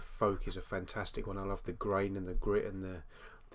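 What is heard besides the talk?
No everyday noises stand out.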